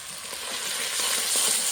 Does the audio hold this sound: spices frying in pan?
yes